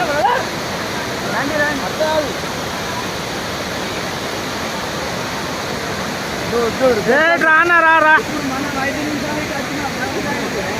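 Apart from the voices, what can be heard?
Baabijhari waterfall, Kerameri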